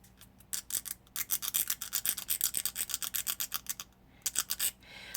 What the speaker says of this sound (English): I'm going to give it a little bit more sanding right there at the round spot.